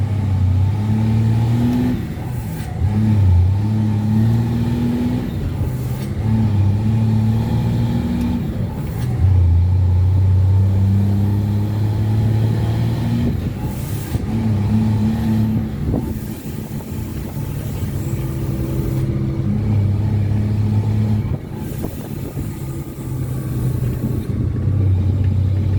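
A Ford Cargo 2428 truck's diesel engine revs steadily in the foreground with rising and falling pitch, a continuous loud drone over about 26 seconds with some wind rumble.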